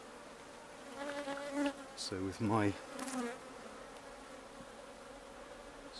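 Honey bees buzz steadily in the background, a low droning hum, while a person speaks briefly over it nearby.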